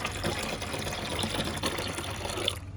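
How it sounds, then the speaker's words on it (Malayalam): Vinegar is poured into a container of water mixed with soap powder, making a steady, close liquid pour and splash that runs continuously before stopping abruptly. "സുർക്ക എടുത്തിട്ട് അത് ഒഴിക്കുക"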